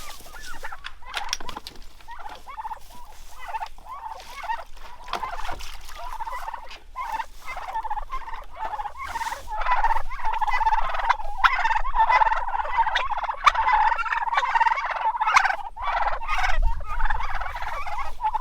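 A flock of turkeys gobbling continuously in a winter pasture, many overlapping calls nearby, loud and busy throughout with no talking.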